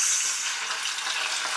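Continuous crackling sizzle of bangus (milkfish) frying in hot oil, steady and close, with no talking.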